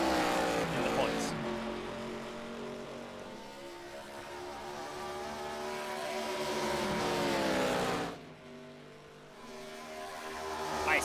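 Race cars in an iRacing sim at Road Atlanta scream down the backstretch at high speed, loud whining engines rising in pitch together before a brief dip as one lifts, then climbing again.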